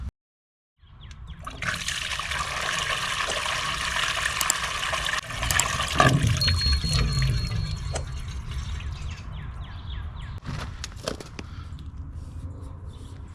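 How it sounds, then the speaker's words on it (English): A toilet flushes and water rushes steadily through a newly fitted discharge pipe with a flexible rubber coupling, a loud gurgling drain that slowly tapers into trickles and drips. "And now it's time to test it."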